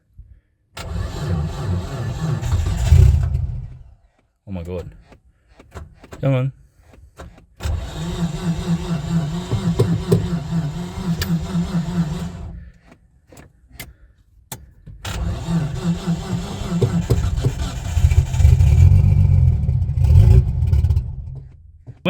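A black Nissan Skyline R33 engine cranks over in short bursts, then catches and revs loudly and steadily close by, cutting out and firing up again, with brief excited exclamations in between.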